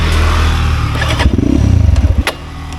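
A motorcycle is ridden close by, with a loud engine rumble that turns into a rapid pulsing chug as it pulls away, then a brief clatter.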